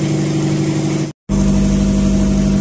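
Engine on a fishing boat turning the winch shaft that hauls up a lift net, a loud steady mechanical drone with a low hum, broken by one brief dropout before resuming unchanged.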